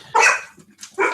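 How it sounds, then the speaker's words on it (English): A dog barks twice nearby, loud sharp woofs separated by a short pause, with no talking over them. "Oh, great. The dog."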